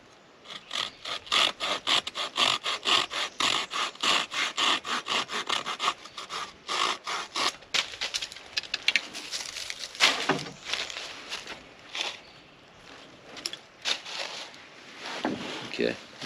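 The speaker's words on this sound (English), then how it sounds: "These silky saws are sharp." A sharp Silky hand saw cuts through wood with rapid, rhythmic back-and-forth rasping strokes, close and clear, pausing briefly before continuing in slower, uneven strokes.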